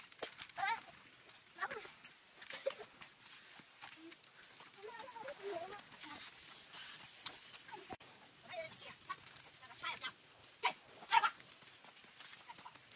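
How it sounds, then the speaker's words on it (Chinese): Three young goats or lambs bleating on a rural mountain outing, several short faint calls scattered over a quiet outdoor background while people talk intermittently. "有三只小羊"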